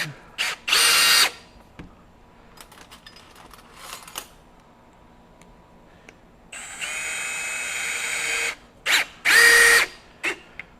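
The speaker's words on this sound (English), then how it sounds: "we're going to run in some 3-inch deck screws" A Milwaukee M18 FUEL hammer drill drives 3-inch deck screws into wood, several short loud whirring bursts with gaps between, close up, including one longer sustained drive.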